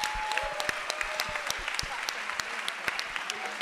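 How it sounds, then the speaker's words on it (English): An audience at a spoken word youth poetry event applauds the poets from Boston, a steady wash of clapping punctuated by sharp, close individual claps, with a few faint voices underneath. "Can we give another round of applause for these poets from Boston?"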